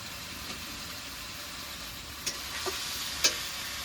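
Meat curry with water in a pan, cooked with green chilli paste, stirred and gently sizzling: a steady soft hiss with a few faint scraping clicks of the spoon near the end.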